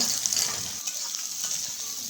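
Chopped onions, with bay leaves nearby, frying in hot oil for a Bengali chhati dish, giving a steady bright sizzle that hisses on throughout without any talking.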